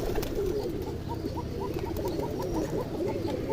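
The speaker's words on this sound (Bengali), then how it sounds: "কবুতরটা বাচ্চা কবুতর" A young pigeon at a pigeon house gives soft, repeated low cooing notes in a steady run against a constant background hum.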